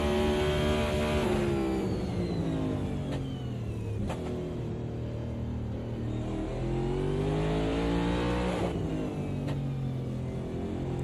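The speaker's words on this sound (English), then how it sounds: "You just hear how smooth we're rolling into the throttle." A simulated race car in the Can-Am SimSport racing game on the Indianapolis Motor Speedway road course, its engine droning loud and steady as it rises and falls through repeated acceleration sweeps with rising revs.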